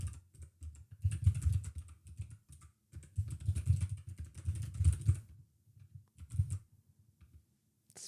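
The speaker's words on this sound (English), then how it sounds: "Keyboard sounds different." Close keyboard typing in quick bursts of clicky keystrokes, pausing briefly between runs before trailing off into quiet.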